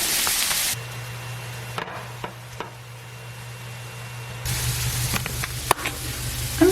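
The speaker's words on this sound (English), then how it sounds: "I'm browning the turkey patties on this little skillet" Turkey patties brown in a small skillet with a soft, steady sizzle, broken by a few sharp utensil taps and scrapes, with no talk.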